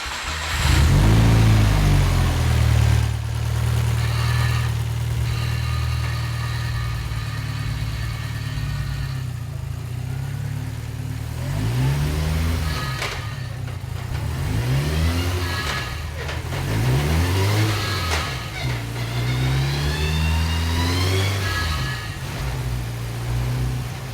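A dog-box-swapped Subaru wagon with a 500 kW EJ25 engine, loud and close, idling and then revving hard in repeated rising and falling pulls, with no talking.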